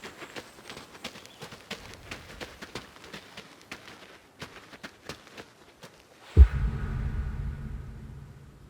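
Horse hooves clip-clop at a steady walking pace in the Western video game Adios, moderately near, for several seconds before a loud low thump and a sustained rumbling noise take over.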